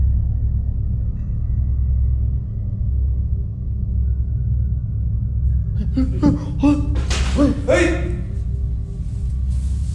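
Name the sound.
knocking at the door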